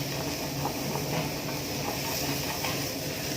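Butter and onions sizzle in a hot pan, a steady soft hiss with faint crackles that holds evenly from start to finish at low volume.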